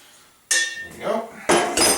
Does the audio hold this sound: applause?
no